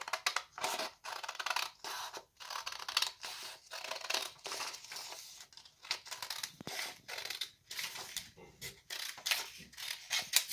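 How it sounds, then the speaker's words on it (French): Scissors cutting a strip of paper for origami, heard as a close, quiet series of rhythmic snips and crisp paper rustles repeating steadily throughout. "Vous prenez votre paire de ciseaux, vous découpez la bande"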